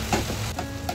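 Okra bhaji with softened tomatoes sizzles steadily in a pan, a soft continuous fry with faint crackles and a couple of light stirring clinks, close and fairly quiet.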